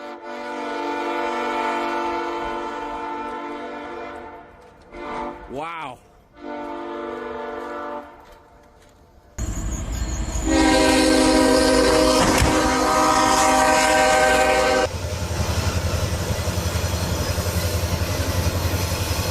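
A train approaches, its horn blaring in long sustained blasts, then a loud rumbling roar and clatter as it passes close by; a voice briefly exclaims.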